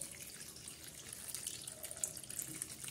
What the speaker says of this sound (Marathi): तर आता बघा याच्यामध्ये आपण हे पाणी टाकणार आहोत